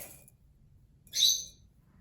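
A pet bird gives two short calls indoors, a faint one first and then a louder, sharp chirp a second later, over quiet room hum.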